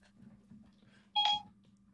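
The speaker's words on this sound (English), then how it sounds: "Alan pulls out his phone and says, "Hey Siri, what does Marigny mean?"" A phone's Siri voice assistant gives a short, bright electronic beep about halfway through, rising out of a quiet room with a faint steady hum.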